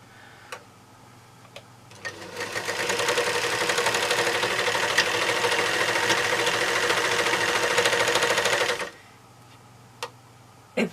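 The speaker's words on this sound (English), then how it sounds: "I just sew it together using me Serger overlocker" A serger overlocker stitches sleeves onto a garment, a steady, dense mechanical whirr running loud and continuous for several seconds, with a few quiet clicks before and after the run.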